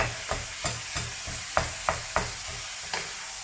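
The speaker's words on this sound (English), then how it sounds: "you can stir it all up and break it down further" Frying mince is stirred and broken up in a pan, with a steady sizzle punctuated by about nine evenly spaced scraping knocks of the utensil against the pan, close and clear.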